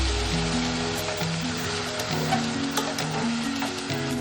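Finely chopped onions sautéing in a pan for nei sooru with spicy chicken thokku, a steady hissing sizzle throughout with a musical tone running underneath.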